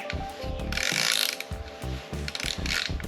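A ratchet wrench clicks in quick bursts while turning on a scooter wheel, close and loud, with short pauses between strokes.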